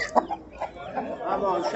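A rooster gives short clucks and throaty calls close by, with some faint background noise.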